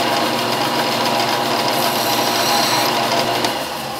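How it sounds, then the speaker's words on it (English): A power sander runs continuously while smoothing small wooden pegs for a low-cost woodworking project, a loud steady high-pitched whir that holds for several seconds before easing slightly at the end. "pretty them up a little bit just with the sander"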